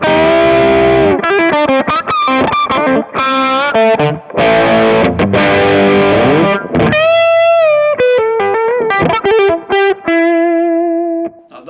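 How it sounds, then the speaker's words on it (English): Electric guitar played through a Kemper profiler with the lead booster in front of the amp and no distortion added, loud, bright sustained lead notes and quick phrases, ringing with a slight overdriven edge, alone without talk. "this is the lead booster in front of the amplifier"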